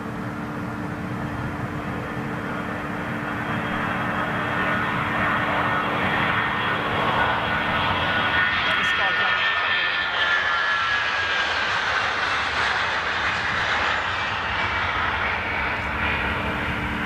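A KLM Boeing 737 jet at Amsterdam Schiphol, engines producing a steady humming drone that swells into a louder roar midway and holds, with a whining tone over the rumble.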